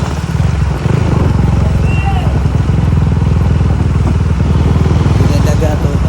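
A motorcycle engine runs close behind on a highway road in Bugo, Cagayan de Oro City, Philippines, a steady low rumble with traffic noise throughout, while someone talks over it.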